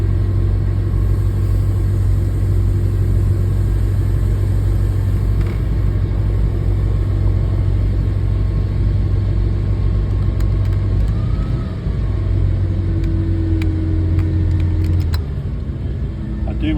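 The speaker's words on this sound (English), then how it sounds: "Do run it back to just the slightest idle." An inboard/outboard boat engine idles with a steady, loud, low drone during winterizing, its tone shifting slightly near the end.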